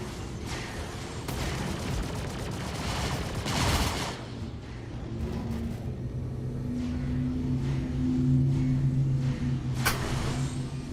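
A volley of missiles launches in Star Citizen, with a burst of sharp whooshing blasts followed by a continuous rumbling engine drone and a few scattered pops. No one speaks.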